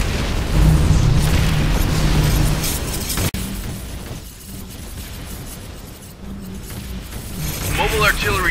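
Air support strikes aliens in X-Morph Defense with heavy booming blasts and rumbling explosions. A sharp crack lands partway through, and a constant din of battle fills the background.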